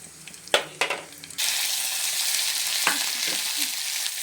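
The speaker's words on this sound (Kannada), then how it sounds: "ಚಕ್ಕೆ ಲವಂಗ ಹಾಕೋತಾ ಇದ್ದೀನಿ." Cinnamon and cloves drop into hot oil for a chicken gravy with a few stirring knocks, then a steady close sizzle of frying spices fills the rest of the clip.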